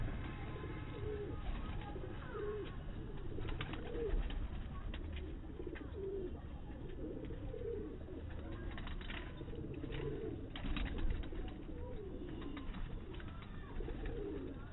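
Breeder pigeons coo over and over in a loft, soft rolling calls overlapping through steady background noise, with a few brief rustles and flutters.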